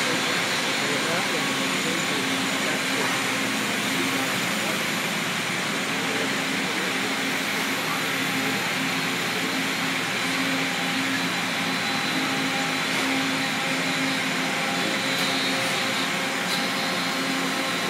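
A Makino A55 horizontal machining center running a program on aluminum with high-pressure coolant, giving a steady, loud whir and spray hiss that fills the whole stretch, with faint voices underneath.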